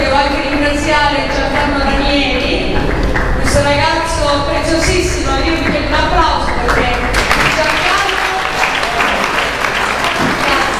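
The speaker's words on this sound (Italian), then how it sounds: "io vi chiedo un applauso." A concert audience gives sustained, dense applause as the choir is brought on, steady and close for about eleven seconds, with a voice speaking over the clapping.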